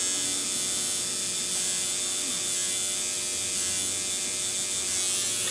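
Continuous high electric buzzing of a tattoo machine, steady and close, with no talking.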